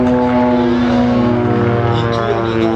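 A propeller airplane drones loudly overhead at the Ferté-Alais air show, its steady engine tone bending slightly in pitch as it turns and maneuvers close by.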